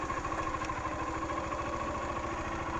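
A motorcycle engine idles steadily close by in the dry backcountry of the Sertão dos Inhamuns, Ceará, a low continuous rumble with a fast even pulse.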